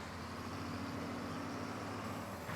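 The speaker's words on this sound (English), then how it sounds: "Please wait, tractor's still warming up yet." A tractor engine warms up in Farming Simulator 19, a steady low idling rumble with constant broadband drone, fairly faint and unchanging, with no one talking.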